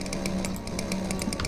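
A chainsaw in the video game Dinosaur Fossil Hunter buzzes in a short, steady burst, a close droning whine with a quick rhythmic rattle, alone without any talking.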